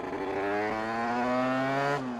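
A small 80cc motorcycle engine revs hard and steady, its buzzing note climbing and holding loud and close for about two seconds before dropping off sharply.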